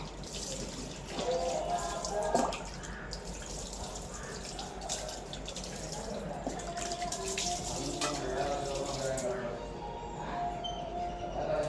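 A brass lamp is scrubbed under a running tap, with a continuous faint stream of water and splashing close by and soft handling noises throughout.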